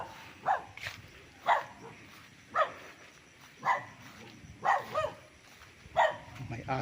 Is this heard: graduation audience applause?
no